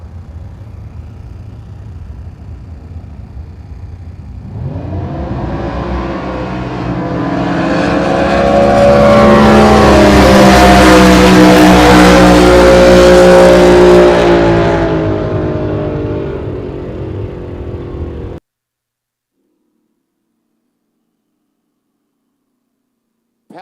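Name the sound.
drag racing cars running down the strip, Mako Chevy 500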